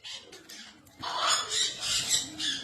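Parrots such as macaws, cockatoos and African greys squawk and screech in a busy aviary, several harsh calls overlapping loudly, starting sparse and then swelling into a dense chorus.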